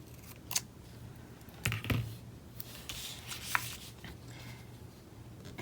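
Stickers being cut with scissors, heard as a few soft, close snips and rustles of paper spread over a few seconds against a quiet room, with no speech.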